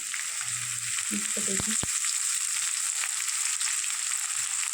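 Sprouted moth beans with turmeric sizzle steadily in a hot pan, a continuous fry hiss with a few brief spoon scrapes as they are stirred.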